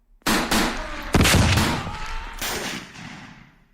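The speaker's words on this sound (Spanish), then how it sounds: "sobre todo cuando de entre la espesura empezaron a sonar disparos." Several loud gunshots crack out in close succession from dense brush, each followed by a long echoing rumble that decays slowly.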